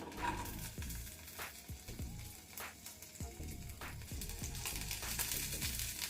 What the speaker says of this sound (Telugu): ఇదంతా ఒకసారి కలిపేసుకొని ఈ చింతకాయ అంతా కూడా మెత్తబడే వరకు వేయించుకోవాలి.